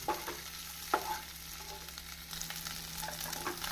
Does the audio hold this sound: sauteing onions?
yes